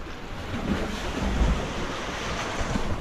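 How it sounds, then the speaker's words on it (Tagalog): Strong storm waves on the sea during a typhoon roar and crash continuously, loud and close, with heavy wind buffeting the microphone and no talking. "Grabe mga kalaot, ang lakas ng alon. Ugong na yung dagat eh."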